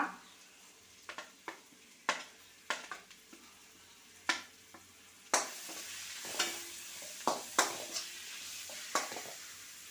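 Onions sautéing for chicken curry, a steady low frying sizzle in a pan broken by repeated sharp spoon scrapes and knocks against the metal as they are stirred, close and alone with no talk.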